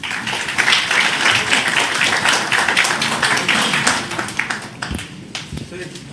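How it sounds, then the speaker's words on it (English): Audience clapping fills a formal government event marking an IT and electronics agreement for Andhra Pradesh, steady and dense for about four seconds before thinning into scattered claps. "Let's give a big applause to this forum."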